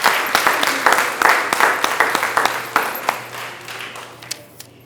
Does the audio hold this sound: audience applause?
yes